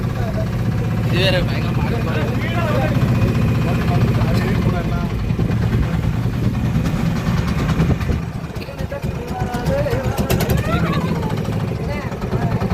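A boat engine drones steadily and loudly during a ride through a mangrove forest, a continuous rumble with people talking over it.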